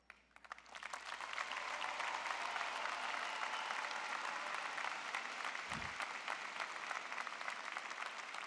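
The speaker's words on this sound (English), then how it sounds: "Please join me in applauding, once again, these outstanding graduates." An audience at a university spring commencement of a college of liberal arts and sciences applauds the graduates, a dense, sustained roar of many hands clapping that swells quickly and holds steady and loud to the end.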